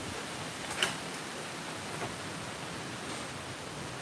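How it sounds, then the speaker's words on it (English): Steady hurricane wind from Hurricane Debby rushes and roars against the microphone as a constant broadband hiss, with a couple of faint clicks. "Plus all this wind that you hear."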